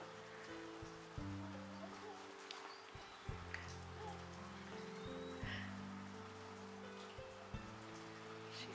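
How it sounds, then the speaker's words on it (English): Rain falls outside as a steady, soft hiss with occasional drip-like taps and thumps, fairly faint and continuous. "It's raining, huh?"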